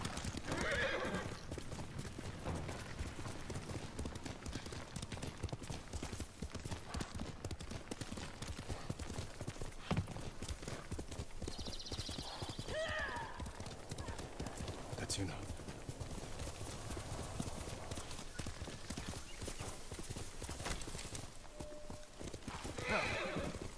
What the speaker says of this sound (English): Where's my horse? There he is.